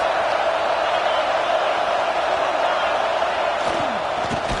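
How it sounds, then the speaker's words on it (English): Stadium crowd noise from a Madden football video game: a loud, steady roar filling the whole stretch, with no break or swell. "This crowd trying to make life miserable for this offense."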